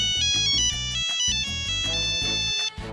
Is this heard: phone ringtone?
yes